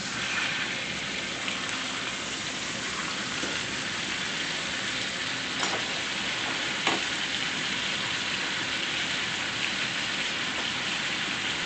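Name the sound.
steaks frying in butter in a pan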